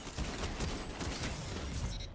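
Rapid hand cannon shots crack in a Destiny 2 firefight, dense overlapping bursts with a game soundscape, loud and close.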